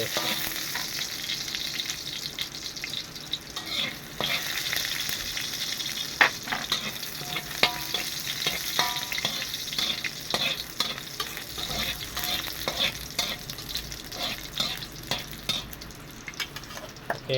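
Minced pork larb being stir-fried in a pan with oil and fried garlic, giving a steady close sizzle with scraping stirs and clinks throughout, no talking.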